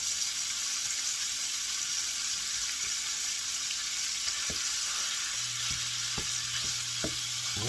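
Ground beef sizzles and crackles steadily in a hot pan, a constant frying hiss with a few sharp knocks and scrapes of stirring toward the end, no voices.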